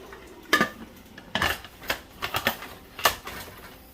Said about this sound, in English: So let's get the pressure cooker covered onto the pressure cooker.